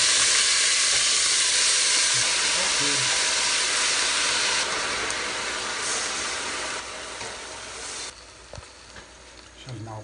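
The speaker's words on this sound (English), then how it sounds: "So now put the onions." Onions frying in a pan with a steady, loud broadband sizzle and hiss that eases slightly toward the end, while a voice talks faintly in the background during a Cordillera pising dish.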